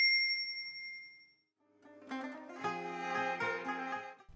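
A bright, clean notification-style ding rings out alone for about a second, then fades into a louder run of chiming, layered bell-like tones.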